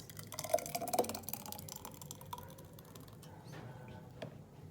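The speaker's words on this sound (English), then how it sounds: "So we're going to pour it inside this glass." A homemade healthy smoothie poured into a glass, giving soft, uneven dripping and splashing liquid sounds, busiest in the first second and then trailing off into faint patter, close and quiet with no talking.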